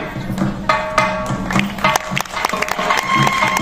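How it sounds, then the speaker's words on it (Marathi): An audience at a felicitation ceremony in Satara applauds with uneven clapping and scattered sharp claps over a murmur of voices and some tonal background sound. "टाळ्या वाजल्या पाहिजे जोरदार।"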